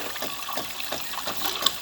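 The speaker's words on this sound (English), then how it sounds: "You can see it's sucking the water out of the pitcher." A Delonghi Gran Dama espresso machine draws water up from a pitcher with a soft, steady sucking and gurgling hiss that stays low and continuous.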